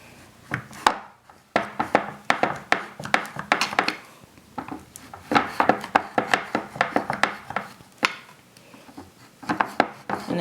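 A knife chopping oatmeal coconut protein bars into squares on a board, giving quick, irregular clusters of crisp taps and thuds close up, with no voices.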